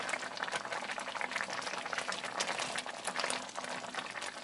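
Mulberry jam boiling in a pot at home, a steady close bubbling and popping with frequent sharp spatters throughout several seconds, loud and continuous without speech.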